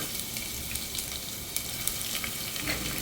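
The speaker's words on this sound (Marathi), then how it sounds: "इथे लसूण अद्रक टाकून घ्यायचे आहे." Garlic and ginger fry in oil in a pan for khichdi, giving a steady, close hiss and crackle with scattered pops and no talking.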